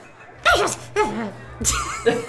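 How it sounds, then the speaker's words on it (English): A voice acts out a series of sneezes, with four sharp, breathy vocal bursts in quick succession, each catching and then releasing, close and loud against a quiet background. "I sneeze. Must be something in the air."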